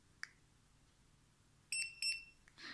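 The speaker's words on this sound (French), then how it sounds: "on appuie sur le bouton jusqu'à ce qu'on entende 2 bips." Two short electronic beeps from a connected keychain tracker switching on sound in quick succession, bright and close, after a faint button click, followed by a small rustle.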